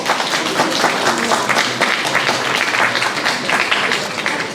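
Audience at a Franco-Mauritian beauty pageant applauding, a loud, dense burst of many hands clapping steadily throughout with slight rises and falls.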